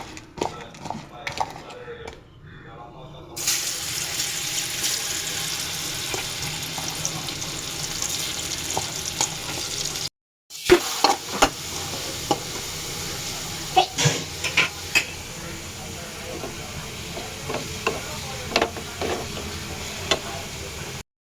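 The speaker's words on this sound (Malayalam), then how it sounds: "ഉരുളക്കിഴങ്ങ് ഇതാ ഇതെന്ത് ചെയ്യുക നമുക്ക് പൊരിച്ചെടുക്കാം" Potatoes fry in a pan in a home kitchen with a continuous hissing sizzle, broken by a short silent gap and scattered sharp clicks and clatters of utensils against the pan.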